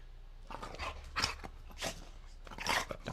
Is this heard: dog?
yes